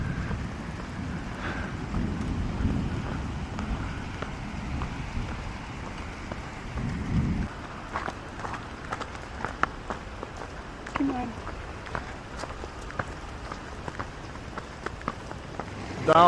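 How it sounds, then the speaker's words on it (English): Steady rain falls in a town in Kosovo during a starting thunderstorm, a dense hiss with scattered drips and some wind buffeting, while a person talks over it. "It's getting very bad the weather, very slippery, and the thunder is also, thunderstorm is starting."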